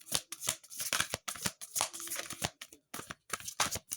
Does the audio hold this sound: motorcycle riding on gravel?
no